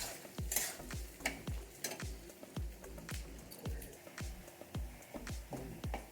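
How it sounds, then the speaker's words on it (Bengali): Tomatoes, onion, garlic and ginger frying for a homemade tomato pickle, stirred in a steady rhythm of soft thuds and squishy scrapes about twice a second over a low sizzle, close up. "তো আমি পুরো লাল লাল করে ভেজে নেব টমেটো, ওই পেঁয়াজ, রসুন আর আদা"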